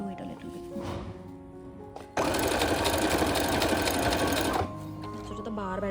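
A Brother FS101 electric sewing machine runs in a loud, rapid, continuous stitching burst of about two and a half seconds. Someone talks before and after it, and other household sounds are heard around it.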